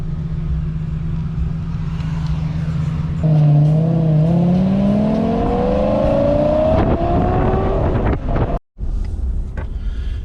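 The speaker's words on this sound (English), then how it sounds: "Nice black Lamborghini. See if we can hear it go." A black Lamborghini sports car drives past on an Ocean City street, its loud engine note climbing steadily as it accelerates away, with heavy wind buffeting the microphone throughout.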